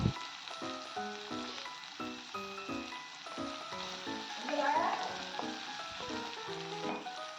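Onions sizzle and crackle as they are stirred and fried in a pan for mutton chukka, a steady, fairly soft hiss heard beneath background music.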